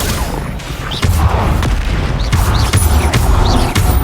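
Bombarda explosion spells in Hogwarts Legacy burst repeatedly in heavy booming blasts with crashing debris, loud and close, one after another in an ongoing combat clamor.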